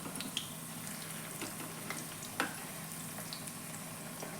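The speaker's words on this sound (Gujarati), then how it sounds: "આગળ પાછળ ફેરવી એક ગોલ્ડન બ્રાઉન કલર જેવું થઈ જાય ત્યાં સુધી આપણે આ ટિક્કીને સેલો ફ્રાય કરી લઈશું" Methi poha tikki shallow frying in oil in a pan gives a steady, soft sizzle with occasional small pops, heard alone without talk.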